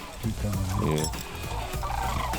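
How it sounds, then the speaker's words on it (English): Cranes flying in over a North American prairie hunting spot give loud, rolling, gobbling calls that overlap continuously for a couple of seconds, close and prominent. "Like 2 cranes coming this way."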